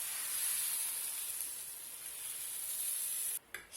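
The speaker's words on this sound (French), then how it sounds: "je fais donc la cuisson des crêpes" Crêpe batter for crêpes Suzette sizzles in a hot frying pan with a steady, soft, close hiss that runs unbroken and then cuts away abruptly just before the end.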